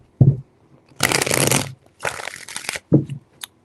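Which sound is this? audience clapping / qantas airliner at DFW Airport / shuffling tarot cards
shuffling tarot cards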